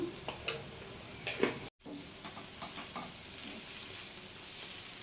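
A spoon stirs an egg and pointed gourd fry in a pan, with a soft continuous sizzle and scattered light scraping taps close by, one brief dropout partway through.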